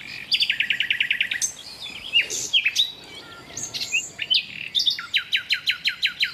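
A nearby bird sings loudly outdoors in bursts of rapid, repeated high chirps, pausing between phrases and then starting the quick trilling series again.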